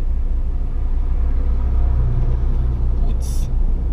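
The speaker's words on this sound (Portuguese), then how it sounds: "O caminhão passou, a ponte balançou." A heavy truck rolls across a swaying road bridge on the BR-153 highway in Tocantins, a loud continuous low rumble of engine and tires with a brief hiss near the end.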